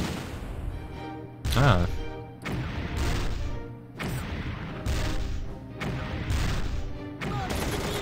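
Artillery and mortar rounds boom in Battle Academy 2 on the Eastern Front, several separate heavy blasts spaced a second or so apart, each with a crashing decay, while someone talks between them.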